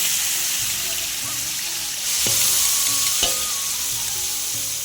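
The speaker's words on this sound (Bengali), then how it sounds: "ফ্রাইড রাইসের জন্য গাজরটাকে ভালো করে ভেজে নেব।" Carrots frying in white oil with a little ghee in a pan for fried rice, a loud close sizzle with clinks of a utensil against the pan and a swell in the crackle midway.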